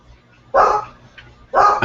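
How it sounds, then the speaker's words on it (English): Two loud, close dog barks about a second apart at a home as public works crews arrive, each a short sharp bow-wow over a quiet background. "this is when the public works shows up and the dog starts barking"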